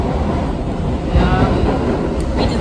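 A train riding along the rails, heard as a loud, continuous low rumble and rolling roar with some wind buffeting, steady throughout with no talking.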